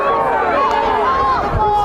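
Crowd noise at a youth soccer match between Salt Lake Academy and Westlake, a steady babble of spectators reacting loudly to a non-call, voices overlapping throughout without any single clear word.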